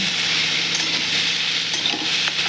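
Food with turmeric frying in a pan gives a loud, dense, continuous sizzle close up, steady throughout with faint stirring scrapes and no voices.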